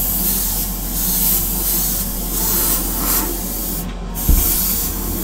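An airbrush sprays base coat onto Greek-style vases, giving a steady close hiss with faint rhythmic pulses from the spray and one brief low knock near the end.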